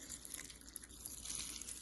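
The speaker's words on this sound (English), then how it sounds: "To that I'm going to add some water" Water runs and splashes steadily into a bowl of flattened rice (poha) for dosa batter, a soft continuous pouring sound, close and fairly quiet.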